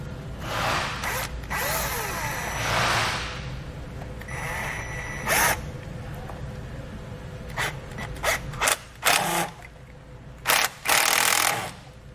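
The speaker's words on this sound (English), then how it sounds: "you may have to use a wrench or ratchet on just due to the angle it's at" A wrench or ratchet tightens a transmission cooler fitting on a vehicle, with bursts of close mechanical clicking and ratcheting separated by brief pauses.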